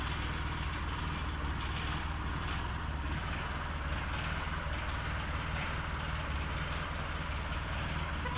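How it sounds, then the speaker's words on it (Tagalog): A 4x4 vehicle's engine idles steadily with a low, even rumble, running smooth and quiet at close range for the whole stretch, with no talk over it. "Maganda yung andar ng ating makina."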